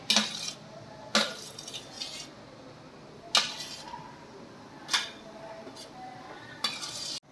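Sharp clinks of metal utensils and dishes at irregular intervals over a steady hiss, moderately close with no talking.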